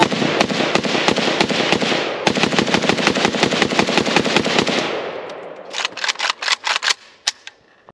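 A Pioneer Arms AKM sport rifle with its factory magazine fires a long, rapid string of loud, sharp shots close by, then slows to a few spaced final shots that fade out.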